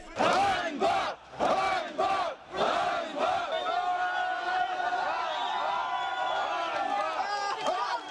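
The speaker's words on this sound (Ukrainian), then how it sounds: "До свого автомобіля Вадим Фокін йшов під вигуки ганьба." A protesting crowd shouts 'shame' at a departing official as he walks to his car, starting with loud rhythmic chanted bursts and then merging into continuous massed shouting.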